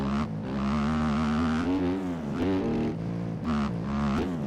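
An OEM Honda 250 dirt bike engine in the MX Bikes racing game revs up and down repeatedly, rising and dipping in pitch with brief drops between revs. It is loud and close, with no talking.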